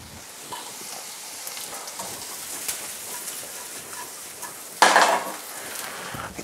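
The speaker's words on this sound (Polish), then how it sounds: "Dodaję kiełbaskę." Sliced sausage added to a pan of softened onion, sizzling quietly while a utensil scrapes and stirs, then a sudden loud hiss as the sausage hits the hot fat near the end.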